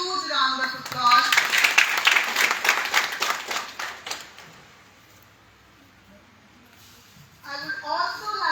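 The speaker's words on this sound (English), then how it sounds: "please welcome her with a huge round of applause" An audience at a school talk event applauds to welcome a speaker with a few seconds of brisk clapping that dies away to quiet, followed by a voice speaking.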